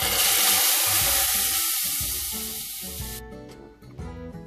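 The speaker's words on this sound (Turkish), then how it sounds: "Nanemi kavurup yemeğimin üzerine dökeceğim." Dried mint sizzling loudly in hot olive oil in a small pan, a bright crackling hiss that fades steadily over a few seconds, followed by a few pan clatters.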